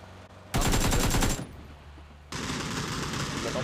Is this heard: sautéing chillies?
no